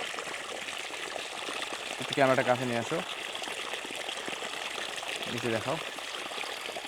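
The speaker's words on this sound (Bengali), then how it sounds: "পাশে দেখতেছি পানি পড়তেছে, পানি শব্দ পাচ্ছি, মানে ওখানে মোটরটা চালু আছে" Water pours steadily from a running irrigation motor pump, a constant outdoor rush close by, with a person talking over it.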